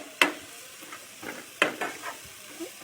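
Egg and spices stirred in a frying pan for egg noodles, giving short sizzling scrapes in a few uneven bursts, close and clear with no talk.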